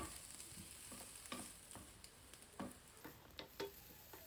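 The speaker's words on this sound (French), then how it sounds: "je vais venir rajouter un peu d'huile, oignon vert. Je vais faire frire environ 5 minutes à feu moyen." Green onion frying in oil over medium heat, a steady hissing sizzle with occasional stirring scrapes and soft taps from a utensil, no talking.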